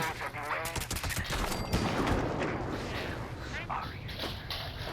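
Gunfire in the video game Fallout 76 comes as a burst of close, sharp shots in the first seconds and then trails off into a rumbling tail, with a voice talking over it.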